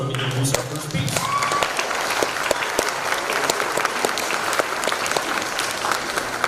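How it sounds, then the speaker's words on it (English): Audience at a middle school band concert applauding a student clarinetist, a dense, steady burst of many hands clapping throughout, with a bit of tonal sound and chatter at the start. "if you guys can give a round of applause for Mr. Cale Johnson"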